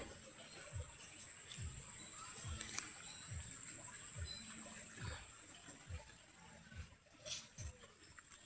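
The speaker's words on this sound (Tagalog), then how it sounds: "niyo po ba ang lagaslas ng tubig?" Water babbling along a rural stream in the Philippines, a faint soft trickle under a steady insect chirr and a few low thumps, with no talking.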